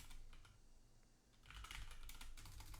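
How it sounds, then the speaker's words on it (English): Fingers type on a computer keyboard with rapid, quiet, close key clicks that pause briefly and then resume more densely. "We're going to type in a few of my favorite foods."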